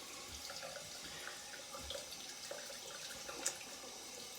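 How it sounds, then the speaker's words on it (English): A shaving brush rinsed under a running tap: a faint, steady stream of water hissing into a sink with small splashes and one brief louder splash. "take the brush, hold it like this, rinse it a bit"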